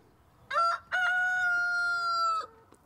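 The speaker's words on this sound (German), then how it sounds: "Lautstark holt der Hahn alle aus den Federn." A rooster crows once loudly nearby just after sunrise, a short note followed by a long drawn-out call, with quiet surroundings before and after.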